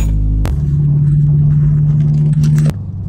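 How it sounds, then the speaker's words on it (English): A loud car engine with a Boomba shortened shifter plate installed and the heat shield missing idles in a deep, steady rumble close by, with a sharp click near the start and the drone dropping off abruptly near the end. "my car's fucking loud"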